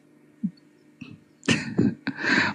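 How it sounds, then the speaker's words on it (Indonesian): Several harsh, raspy coughs resembling a smoker's cough burst out in quick succession, fairly close and distinct against a quiet background. "Kayak batuk ngerokok aja kali ya."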